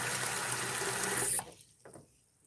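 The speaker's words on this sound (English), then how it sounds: "Fill it with water" Water runs from a tap to fill a small handheld hair-colour device. It is a loud, steady gush that cuts off abruptly after about a second and a half, and faint small clicks and drips follow.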